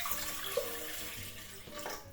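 Water pours steadily into a pot, about 750 ml measured out for cooking vanilla pudding, a soft continuous splash at low level heard alone for about two seconds.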